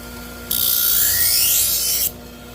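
A power sharpener grinds along a kitchen knife edge in one continuous, steady, bright rasping pass lasting about a second and a half, close and loud, with quiet before and after.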